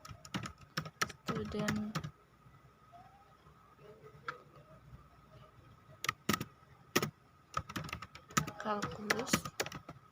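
Keyboard typing on a computer while entering a calculus problem into Maple, with bursts of clicky keystrokes at the start, middle and end, separated by quieter pauses where a voice speaks.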